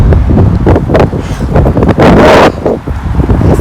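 Strong wind buffets the microphone outdoors on a hillside path before rain, bringing loud roaring gusts and rustling, with one especially heavy blast in the middle.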